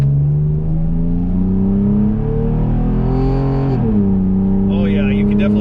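A Nissan Frontier pickup fitted with an AFE cold air intake pulls uphill, its engine droning steadily with a rising, shifting pitch and a brief dip partway through, loud and continuous from start to finish.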